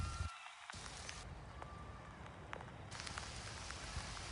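Hailstones fall with heavy rain outdoors, making a soft, steady patter with scattered sharper taps and clicks. The whole scene is quiet and distant, with brief dropouts.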